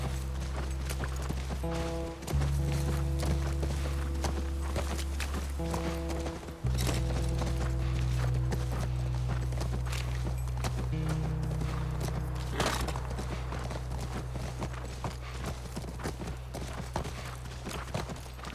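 Horse hooves clip-clop steadily in the video game The Last of Us Part 1 over a constant low hum and droning background music, the footfalls even and moderately close.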